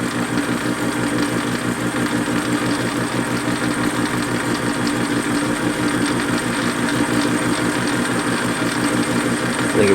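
A Warco lathe runs at a steady, even drone while a dovetail is cut for a shop-made quick change tool post, the machine hum loud and continuous throughout without any break.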